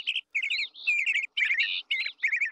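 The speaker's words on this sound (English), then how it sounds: "trying to look at the birds in the trees" Birds chirp in the trees in a children's TV show, with bright, rapid tweeting phrases repeating in short bursts, close and clear, with no talking.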